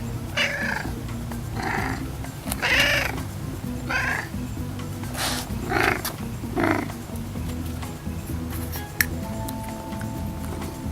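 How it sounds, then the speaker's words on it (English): A pet cat meows several times in a row, drawn-out plaintive calls spaced a second or so apart over a low steady background hum. "And here's my cat meowing."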